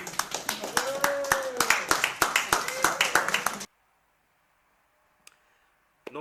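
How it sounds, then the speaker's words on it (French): A small group claps in quick, uneven bursts for a few seconds, close and fairly loud, then stops abruptly, leaving near silence with a couple of faint clicks. "vous pouvez m'applaudir les gars"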